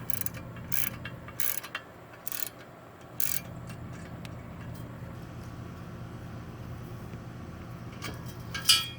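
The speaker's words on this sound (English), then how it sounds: "Then I'm going to put the ratchet on the front side" A ratchet works on a bolt in a few short bursts of rapid clicking, close and clear, followed by a long stretch of quiet background hum.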